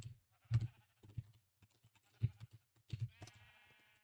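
Sheep on a sheep farm in a video game, sounding a few short scattered bleats among quiet patches with faint clicking, like typing, underneath.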